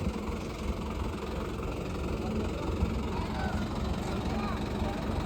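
A tractor engine idles with a steady low rumble throughout, and faint voices can be heard beneath it.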